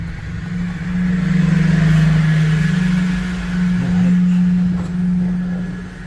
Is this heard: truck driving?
yes